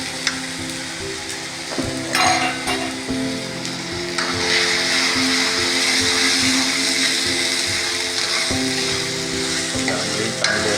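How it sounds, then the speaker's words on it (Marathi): Chopped ginger fries in hot oil for an egg curry, producing a loud, continuous close sizzle that swells midway, with a few scraping stirs of the spatula. "अद्रक समार चांगला भाजून घेणं आहे"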